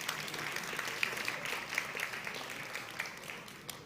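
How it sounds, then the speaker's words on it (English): An audience applauds at an innovation awards ceremony in Moldova, a steady, fairly distant wash of many hands clapping, with a few sharper individual claps standing out, lasting a few seconds with no talking. "Let's roll another round of applause for everybody who has been living with this event"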